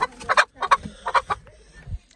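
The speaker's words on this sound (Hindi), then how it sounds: "बैठ ही नहीं रही है मुर्गी तो" A Kuruk hen at a mini zoo clucks in short bursts, several close, rhythmic clucks in clusters with brief gaps, loud and clear with no talk over them.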